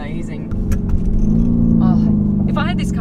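A Mansory-tuned Lamborghini Urus exhaust gurgles as its engine note rises, a loud, close burbling rumble with crackles, and a voice comes in briefly near the end.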